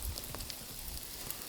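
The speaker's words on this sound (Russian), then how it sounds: "Только вот 10 минут перерыва и опять дождь" Rain falling during a grayling fishing trip: a faint, soft patter with a few scattered droplet ticks, quiet and steady over a brief stretch.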